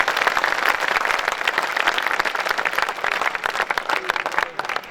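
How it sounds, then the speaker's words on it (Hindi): Energetic applause from a crowd at a night-time kavi sammelan poetry gathering, honoring the poet Jagdish Solanki, dense continuous clapping for about five seconds that fades slightly at the close, with no speech. "मैं चाहता हूं एक बार और ऊर्जा भरी तालियां उस बड़े कवि के चरणों में बिखरें आपकी"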